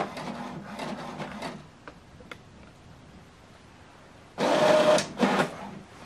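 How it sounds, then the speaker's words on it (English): HP Deskjet 2800e all-in-one wireless printer printing a document at 600 dpi: mechanical whirring bursts at the start, then a quiet pause with faint ticks, then a louder grinding feed pass near the end. "So this document now is printing."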